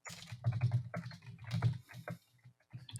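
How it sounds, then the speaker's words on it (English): Fast typing on a computer keyboard, with dense irregular bursts of key clacks broken by brief pauses, close-miked and fairly loud. "I can hear Brian typing"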